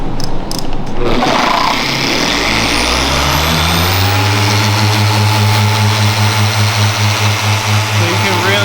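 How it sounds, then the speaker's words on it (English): A Griot's G9 dual-action polisher runs steadily on a curved car body panel, a loud continuous motor whine with a low droning hum that builds after a brief start and holds for several seconds. "it's actually spinning on this contour, so you can cut out your rotary marks and whatnot."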